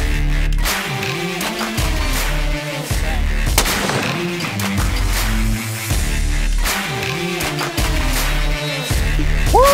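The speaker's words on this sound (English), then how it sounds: "When we're shooting the 50, it's gonna be loud, and it's gonna be really loud." A .50 caliber rifle fires at a firing range, sharp, booming reports in a loose series with heavy low-end rumble and echoing decay between shots.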